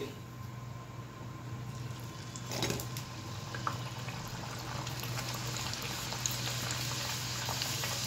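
Dal with asafoetida and spices cooks in a pan, a continuous bubbling simmer and soft sizzle with a steady low hum beneath, and a couple of light clinks of a utensil partway through.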